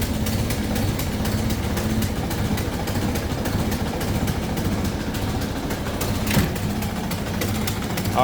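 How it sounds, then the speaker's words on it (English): A 1926 Ford Model T Coupe engine idles with a steady, low, rhythmic chugging rumble throughout, and one brief louder burst partway through. "I'm going to idle that down just a little bit."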